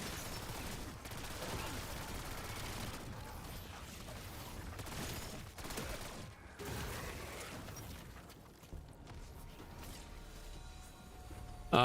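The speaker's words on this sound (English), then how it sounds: "This feels like a modern PPSH." A modern PPSh-style submachine gun in a video game fires in long, continuous rapid bursts. The mechanical rattle is sustained and fairly faint.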